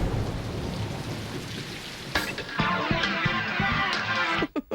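Steady rain falls with a dense hiss, then the sound turns gustier and more uneven as heavier drops patter and splash on surfaces, with a short break near the end.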